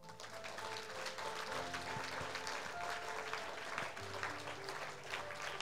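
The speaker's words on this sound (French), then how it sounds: "Est-ce que quelqu'un peut applaudir Jésus ici?" A church congregation at a French-language worship service claps together, a soft, continuous patter of many hands heard from a distance, with faint sustained musical tones running beneath.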